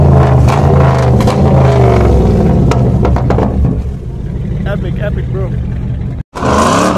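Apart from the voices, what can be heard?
Chevrolet Camaro V8 engine revving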